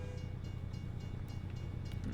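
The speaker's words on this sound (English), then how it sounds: "Another train? Hopefully this train isn't 5 miles long." A passing freight train heard from inside a truck cab: a steady, low rumbling roll that holds at an even level throughout, with no voices over it.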